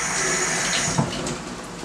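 Tap water runs steadily into a kitchen sink while garlic is rinsed, a continuous close splashing hiss with a brief louder splash partway through.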